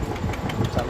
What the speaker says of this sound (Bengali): এই তো মেশিন স্টার্ট করছে